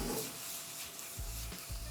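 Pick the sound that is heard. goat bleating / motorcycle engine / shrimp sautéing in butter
shrimp sautéing in butter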